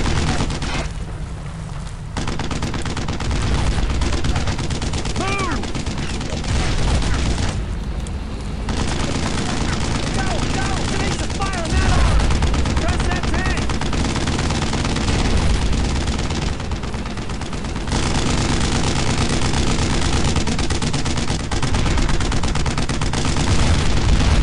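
Heavy gunfire rattles through a World War II battle in Brothers In Arms: Road To Hill 30, with loud, sustained bursts of rifle and machine-gun shots and booming blasts.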